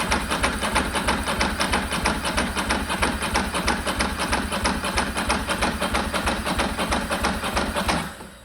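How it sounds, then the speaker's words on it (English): A decade-dormant Ducati motorcycle with dry carburettor float bowls cranks over without firing, a loud, rapid, even rhythmic churning of the starter that runs for about eight seconds before cutting off abruptly. "So the reason we are cranking and cranking and cranking and nothing's happening, the float bowls are empty."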